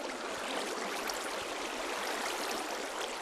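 Water flows from an infinite water source in Minecraft, a steady hissing stream sound, continuous and even, with no speech.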